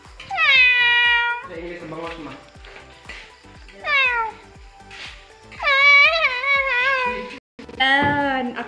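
A cat meows repeatedly up close, several drawn-out, wavering cries separated by short pauses, with some quieter sounds in between.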